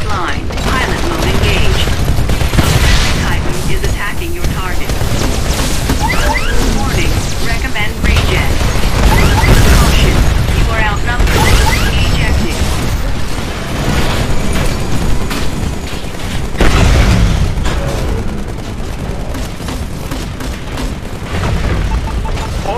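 Dense Titanfall battle in which a Titan mech attacks: loud, continuous gunfire and booming explosions with mechanical clanks filling the whole stretch, under game voice chatter.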